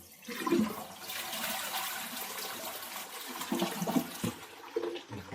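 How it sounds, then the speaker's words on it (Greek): A side-fed toilet cistern flushes with a rushing gush of water that keeps churning and gurgling throughout, with a few louder splashes near the end. "θα αδειάσουμε το καζανάκι"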